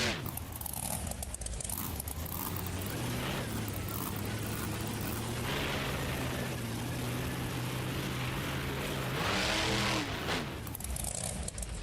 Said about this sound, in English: Why is the truck driving away?